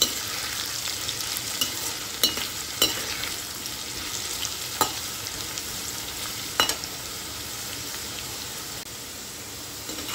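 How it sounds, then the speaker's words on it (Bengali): Potatoes being stirred with turmeric and salt in a frying pan for a prawn and banana-flower dish: a continuous hissing sizzle broken by sharp scraping spatula strokes, close by, with no voices. "আলুগুলির সাথে ভালোভাবে মিশিয়ে নিচ্ছি।"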